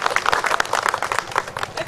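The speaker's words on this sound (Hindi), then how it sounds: "तो एक बार ताली बजा दीजिए" Crowd clapping for a Hindi street play about parking irregularities at a market in Dwarka, scattered uneven claps at moderate level amid outdoor bustle.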